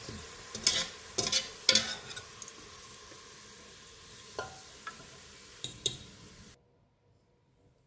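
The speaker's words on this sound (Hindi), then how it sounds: "ऑयल गर्म हो गया है, इसमें 2 प्याज डालेंगे। इनको गोल्डन ब्राउन फ्राई करेंगे।" Two onions fry in hot oil, cooking to golden brown, with a steady sizzle broken by sharp stirring scrapes and clatters near the start, a few more later, then silence at the end.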